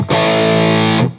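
An electric guitar runs through a Providence Stampede DT distortion pedal with the bass knob at halfway, giving one loud, thick sustained chord that rings for about a second before cutting off.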